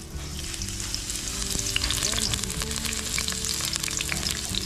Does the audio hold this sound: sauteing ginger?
yes